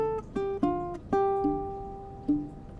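A baritone ukulele picks an acoustic blues theme, a few plucked notes and short double stops with uneven gaps and ringing decays, played solo and close.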